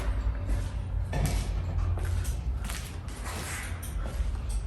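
Metallic creaking and ratcheting from a wrench tightening a bolt under a Polaris Slingshot during an oil change, a steady mechanical grind over a constant background hum, with no talk.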